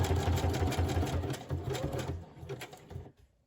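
A sewing machine runs a zigzag stitch through collage paper and fabric, whirring in a quick, close, buzzing rhythm that slows and stops near the end.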